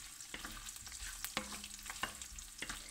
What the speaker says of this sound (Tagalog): Tumitilansik yung mantika, guys.